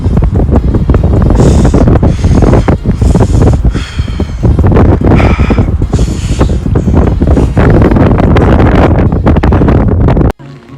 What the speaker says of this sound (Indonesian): anginnya masih kencang sekali